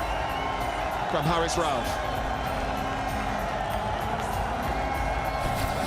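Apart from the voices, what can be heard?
cricket crowd cheering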